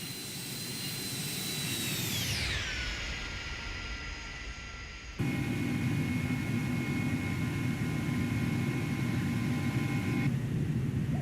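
Airbus A300-600R jet engines climbing in the X-Plane simulator, a sustained turbine roar with whining tones that sweep downward midway, then a steadier, slightly louder drone with layered hum, no talking.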